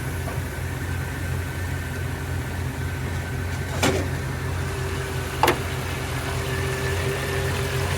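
A Mercedes E55 AMG with a remapped 5.4-liter supercharged V8 idles steadily, a low, even rumble close by, with two brief sharp clicks over it.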